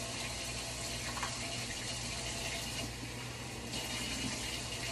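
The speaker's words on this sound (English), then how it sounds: "I always have to rinse off my own shrimp before I start cooking" Tap water runs steadily over shrimp being rinsed in a home kitchen. The hiss and splash stay constant and close for the whole stretch, with no talk over it.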